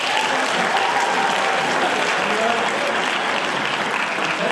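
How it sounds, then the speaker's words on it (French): Sustained applause from a debate audience at a final in Lille, a dense steady wash of many hands clapping without a break, loud and even throughout. "On peut encore applaudir les deux équipes."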